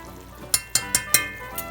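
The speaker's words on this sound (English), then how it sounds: "We're going to give that a stir" Chili powder being stirred into a pot of vegan gumbo: four or five quick, crisp scraping strokes of a spoon against the pot, close and distinct over a quiet simmer.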